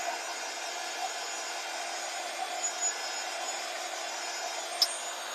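A heat gun or hair dryer blows hot air onto inked paper to dry it, giving a steady, even rushing whoosh with no break and almost nothing else heard.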